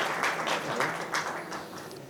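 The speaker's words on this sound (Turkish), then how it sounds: "Gerçekten alkış hak ediyor." Applause from an audience at a talk or presentation, a steady dense wash of many hands clapping together, fairly even in loudness throughout with no voices standing out.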